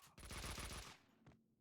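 A rapid burst of automatic gunfire in the video game Max Payne 2, a tight string of loud shots lasting under a second, followed by a single sharper report and a fading tail.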